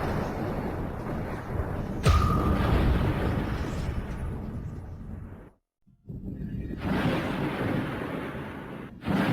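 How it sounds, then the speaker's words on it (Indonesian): Thunder rumbles loudly during a storm, a long rolling boom with a sharp crack near the start, briefly cutting out before the rumbling resumes. "Ada petir."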